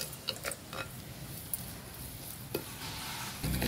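Freshly pounded ginger-garlic paste frying in a pan outdoors in village style for mutton keema curry, a soft continuous sizzle broken by a few light stirring clinks and scrapes, no talking.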